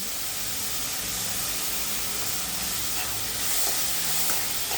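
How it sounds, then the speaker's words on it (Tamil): Tomatoes sautéing in a hot pan, a dense, continuous hiss and sizzle that stays loud and even throughout, with no voices. "தக்காளி போட்டு நல்லா வதக்கிக்கலாம்"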